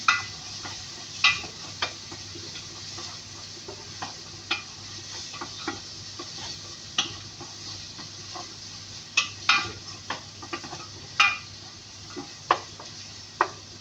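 Vegetables being stirred in a hot cooking pan, with scattered scraping and clinking strokes over a continuous soft sizzle, heard close and fairly quiet.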